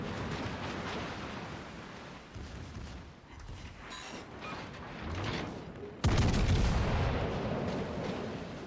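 Prinz Heinrich's guns fire in World of Warships Legends over a steady wash of sea and battle noise, with one sharp, heavy salvo booming out partway through and rumbling on afterward.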